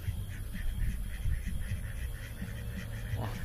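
Ducklings quack at a lake beside an RV campsite (Huayang Lake) in the evening, with short calls repeating steadily over a constant low background hum at moderate distance.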